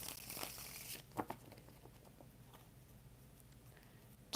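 Tarot cards being shuffled: a burst of papery riffling and crinkling up close, then a few sharp snaps and soft, faint card rustles, with no voice over it.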